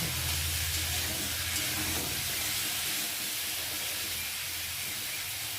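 Potatoes fry with turmeric in hot oil, giving a steady, continuous sizzling hiss at moderate volume with a low rumble beneath, unbroken throughout.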